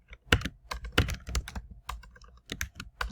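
Quick, uneven keystrokes clatter on a computer keyboard, close and fairly loud, with a few brief pauses between bursts of typing.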